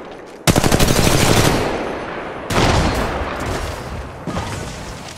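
Automatic weapon fire in the mobile battle royale game Apex Legends Mobile: loud rapid bursts of close gunshots, one long burst followed by two shorter ones with brief gaps between, no talking.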